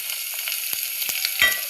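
Sliced large onions sautéing in oil for a barracuda fish curry, a steady sizzle broken by a few quick spatula scrapes against the pan.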